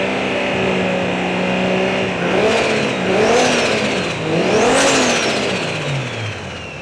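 Toyota Chaser engine running and revving up twice, pitch rising and falling in two clear sweeps over a steady idle, close and loud with no talk.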